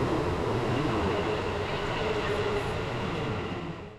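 Steady rumble of a subway train in motion in Kyoto, a continuous broadband roar that holds level and eases off slightly at the end.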